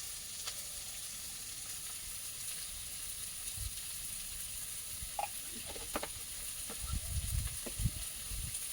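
Soft, steady sizzling of turmeric in hot oil while cooking shrimp curry with kochur loti, faint and continuous with a few light stirring clicks and taps toward the end.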